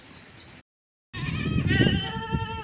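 Goats and young kids bleating in a pen on a small farm, a brief call, then a gap of silence and several overlapping wavering bleats, close and fairly loud.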